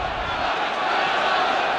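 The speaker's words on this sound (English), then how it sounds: "A great roar from the home crowd" A home rugby crowd in South Africa roars during a 1974 British and Irish Lions test match, a sustained, dense wash of massed voices that holds steady and swells slightly toward the end.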